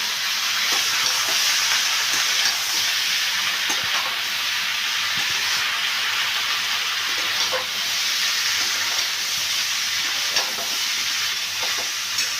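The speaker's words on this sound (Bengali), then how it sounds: "দিয়ে সবজিটাকে ভালো করে নাড়িয়ে নিচ্ছে" Mixed vegetables with dried fish and ground coriander are stirred in a hot pan. A loud, continuous hissing sizzle runs throughout, with soft scattered clicks from the spoon.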